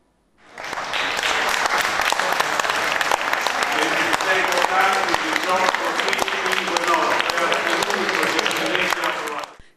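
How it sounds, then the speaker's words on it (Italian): Abruzzo Engineering employees give an emotional, sustained round of applause in the regional council chamber after an all-night session. The dense clapping stays loud and steady for about nine seconds, with voices mixed in, before stopping abruptly. "con l'applauso commosso dei dipendenti di Abruzzo Engineering"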